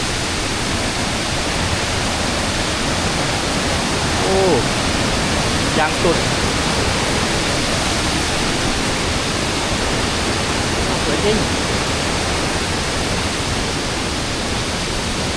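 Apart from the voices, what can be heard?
Yolapa waterfall in Oudomxay, Laos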